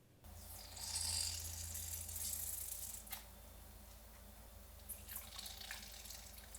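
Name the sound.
squeezing water out of rehydrated shiitake into bowl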